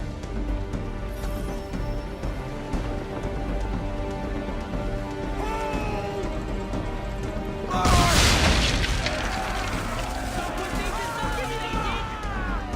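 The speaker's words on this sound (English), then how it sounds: "Hit those old powder barrels and light up the sky." Powder barrels blowing up under swivel gun fire in Assassin's Creed III, a loud booming blast that rises over a steady rain-like wash of game ambience, followed by crackling debris, with voices talking underneath.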